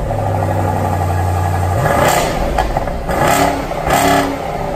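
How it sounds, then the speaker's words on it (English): A 2019 BMW 8 Series engine starts with a deep rumble, then revs up in several loud, throaty blips from the exhaust, close by. "turning on the new 8 Series, and specifically the exhaust note, which sounds surprisingly good"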